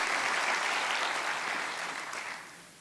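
An audience at the opening of a makeathon event applauds, a thick, steady burst of many hands clapping that gradually fades out.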